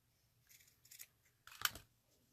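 Scissors snip through ribbon at an angle while a bow is being trimmed, a few soft close cuts with one sharper louder snip near the end, quiet and alone.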